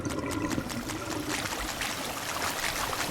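Floodwater in a drain simulation, flowing and trickling steadily at close range with splashy, bubbling surges, moderately loud and continuous.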